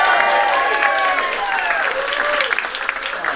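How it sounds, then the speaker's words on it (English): An audience applauds continuously at a stage event, dense steady clapping from a sizable crowd with a few whoops and voices mixed in. "That is a mediocre New Age applause of about that much on the stage"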